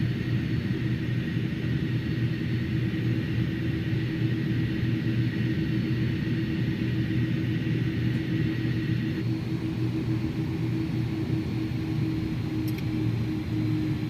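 Airbus A300 jet engines spooled up slightly to begin taxiing in a flight simulator, a steady low rumble and broad hum that holds constant for the whole stretch, with no talk.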